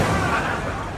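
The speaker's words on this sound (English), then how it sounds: "The power of the explosion punches straight through." Rocket warhead detonating against a Sherman tank's side armor, a heavy, dense blast roar that fills the whole second and fades only slightly, loud and close with no talk.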